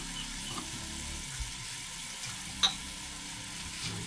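Meat seasoned with coarsely ground pepper sizzles steadily in a pan, with occasional light clinks and scrapes of stirring over the constant frying hiss.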